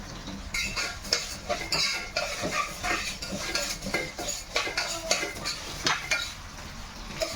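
Vermicelli frying in a hot pan while being stirred, with a steady close sizzle broken by repeated scraping and clinks of a utensil against the pan, no talking.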